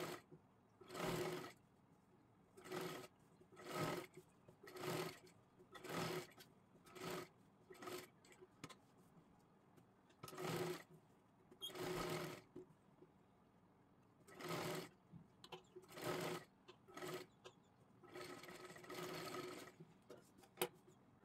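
A sewing machine stitches around the neckline of a pan-neck blouse in a dozen short, regular bursts of whirring needle action, each separated by brief pauses, close and clear with no talking.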